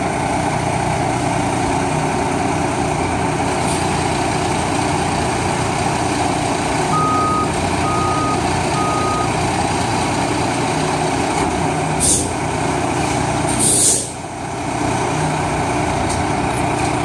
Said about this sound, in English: put it in reverse, see if the audio warning comes on, if there is one